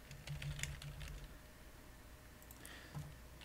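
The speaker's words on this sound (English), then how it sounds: "Now we simply type our information" Light keyboard typing while a name, username and password are entered during an Ubuntu install in VMware Workstation, with a short burst of taps early on and a few more later, faint and close, with no speech.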